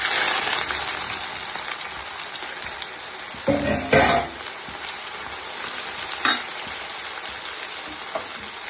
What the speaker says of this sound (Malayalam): അപ്പം ഞാൻ ദേ സവോള അതിലേക്കിട്ട് വഴറ്റാൻ പോകണം